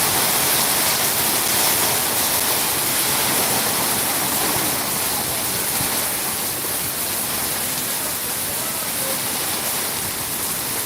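Dense, steady rushing of rainwater flowing and splashing over a flooded road, loud and continuous with no break.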